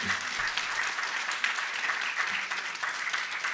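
A crowd claps steadily and fairly loudly throughout, a dense continuous wash of applause with no talking.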